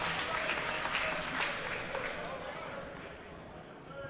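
Applause from the crowd for the competitors after a cadet boxing bout, a fairly faint, dense clapping that fades gradually, with voices and an announcer's talk mixed in.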